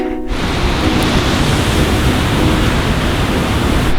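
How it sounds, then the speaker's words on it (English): Waterfall on a freezing morning, its mist coating everything in ice, pours out a steady, loud, broadband roar that stays constant and close throughout with no voices. "That is a sweet waterfall."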